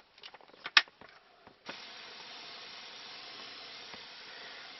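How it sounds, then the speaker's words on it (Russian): Cleaning solution sprayed from a can into the air conditioner housing of a Mitsubishi Galant EA with the cabin filter removed: a few short clicks and taps, then a steady close hiss of spray running continuously to the end. "Я снимаю все-таки фильтр, распыляю раствор внутри короба."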